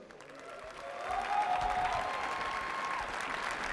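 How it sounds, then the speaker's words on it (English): An audience applauds during team introductions at a sports match, clapping rising after a second into a sustained, moderately distant round of applause. "So big applause, please."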